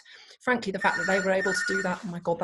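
A telephone rings intermittently in a home setting, its trilling tone partly masked by someone talking over it throughout.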